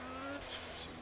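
Racing car engine in the Project Cars video game, a steady tonal engine drone with road noise, running continuously under game sound for about a second.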